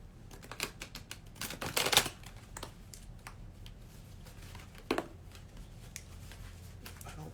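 Playing cards being shuffled, a crisp riffling burst near the start followed by softer flicks and handling noises at close range.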